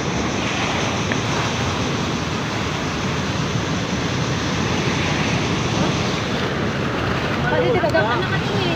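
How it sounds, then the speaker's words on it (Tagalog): Ocean waves roll and wash in continuously, a loud broad surf roar mixed with gusty wind buffeting the microphone. "Ang ganda ng alon, oh."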